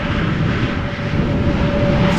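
An airliner arriving in a crosswind at Amsterdam Schiphol Airport gives a loud, steady, broadband engine roar with a faint whine running through it, close and continuous throughout.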